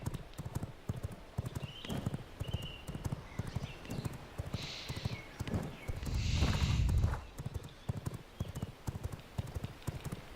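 Horse galloping in a video game, with rapid rhythmic hoofbeats clip-clopping throughout and a short neigh or snort partway through, fairly faint and unaccompanied by talk.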